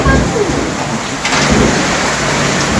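Heavy summer downpour with some hail, a dense roar of rain hammering down close and loud without pause, with voices faintly talking beneath the steady wash.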